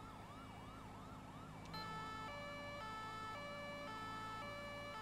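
Several police sirens wail at once in GTA V traffic, one cycling up and down while others join with steady alternating high-low tones, loud and overlapping over a low engine hum.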